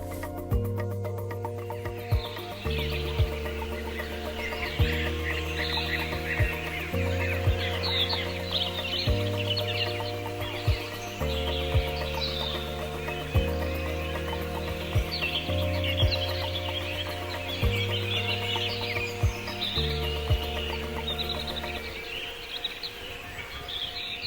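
Forest ambience with small birds chirping and twittering throughout, layered under a steady, repeating music track.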